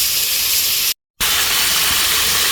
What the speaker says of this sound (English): we're going to cover it and leave it to steam